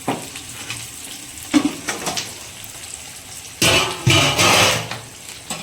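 Onions fry in hot oil with tempering spices for chicken biryani, a steady close sizzle broken by bursts of louder crackling and stirring scrapes.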